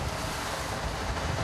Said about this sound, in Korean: 점점 거세지는 파도